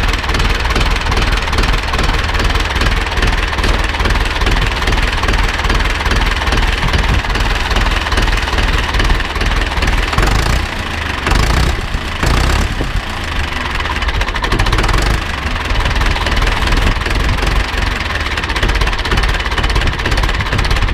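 An Ursus C-360 tractor engine idling at very low revs, a loud, close, steady diesel chugging and knocking that runs throughout, with a few brief dips and thumps partway through.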